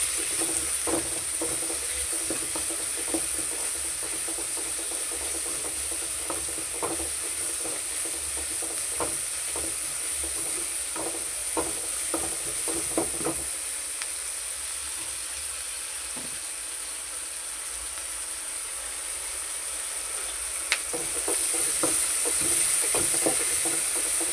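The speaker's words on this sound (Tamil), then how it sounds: "வெங்காயம் நல்லா அந்த பொன்னிறமாக வரணும். நல்லா வதங்கட்டும்." Sliced onions fry with salt in a pan, giving a steady soft sizzle and hiss, with scattered light scrapes and clinks from stirring, close but fairly quiet, with no voices.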